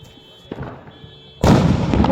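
New Year fireworks go off in a residential neighborhood: a faint pop, then a sudden loud crackling burst that fills the rest of the moment, with a voice briefly audible beforehand.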